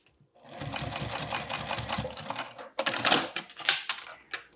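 A sewing machine stitches a thick two-colored crossbody bag strap, a close, rapid mechanical chatter in a steady run, then a pause and a few shorter bursts of stitching.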